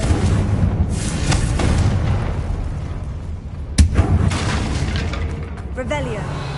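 A Confringo explosion spell goes off in Hogwarts Legacy, giving a sharp booming blast over a dense, loud game soundscape of rumbling ambience and effects.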